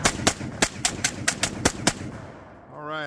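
A Tommy gun firing blanks in a full-auto burst: nine or so sharp, evenly spaced loud reports in rapid rhythm, then the firing stops and a faint ringing tail follows.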